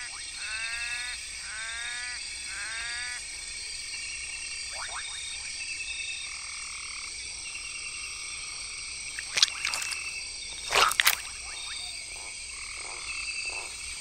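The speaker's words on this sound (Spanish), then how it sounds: "La rana verde de ojos rojos." Red-eyed tree frogs call in a tropical Central American forest, repeated rapid croaking trills in short bursts over a constant background hum of insects, with a few sharper chirps later, moderately close and without talk.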